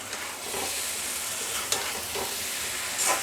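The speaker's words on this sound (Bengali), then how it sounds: "সুন্দরভাবে আমার সবজিগুলো কষানো হচ্ছে।" Mixed vegetables sautéing in a pan for a hilsa fish curry, giving a dense continuous sizzle with a few soft stirring scrapes, close and without voices.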